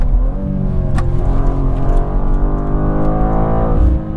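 A 2023 BMW M2 G87 revs hard and continuously, its loud engine note climbing steadily in pitch under acceleration with no voices.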